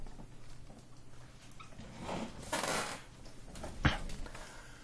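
A pet cat grabs objects off a table: a soft rustling swell, then a single sharp, faint clatter against a quiet room background.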